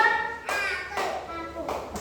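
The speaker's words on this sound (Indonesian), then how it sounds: "Tepuk tangan." Children at a classroom lesson clap their hands in three short bursts, each a quick flurry of claps fading out, with quiet gaps and faint room noise between.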